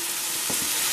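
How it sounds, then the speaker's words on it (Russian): Mushrooms fry in a pan with a brief, close, steady sizzle and crackle, with a faint stir or scrape partway through and no talk. "Пока у меня тут жарятся грибы."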